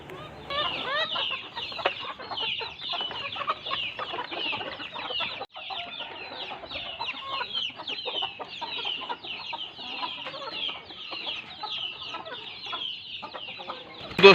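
A flock of chickens and chicks cluck and chatter busily up close while eating roti, a dense run of overlapping short calls and pecking with no talk.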